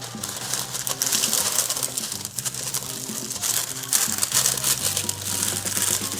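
Parchment paper for a dairy-free, gluten-free cheesecake is folded and pressed into a pan, producing continuous close crinkling and crackling with dense rustles and no talking.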